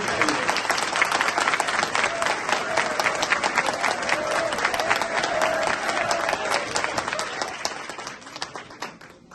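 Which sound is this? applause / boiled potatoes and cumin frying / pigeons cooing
applause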